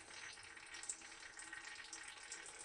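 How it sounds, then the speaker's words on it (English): Oil drains slowly out of a Highland Park Model J2 18-inch slab saw as a faint, continuous trickling pour, close and steady with no talking. "Now I'm draining the oil out slowly."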